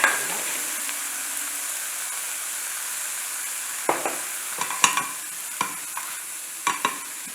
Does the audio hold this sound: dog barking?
no